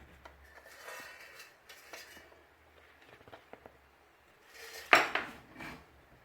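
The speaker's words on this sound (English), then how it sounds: "Now I'm going to be using a spoon to scoop and measure the size of my fritters." A metal spoon scraping and clinking against a bowl while scooping rice fritter batter, soft scrapes then a sharp close clatter near the end, with no talk.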